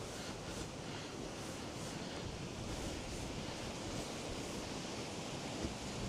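Ocean waves wash against a coastal cliff shoreline in a steady, unbroken roar, with gusting wind buffeting the microphone throughout and no voices.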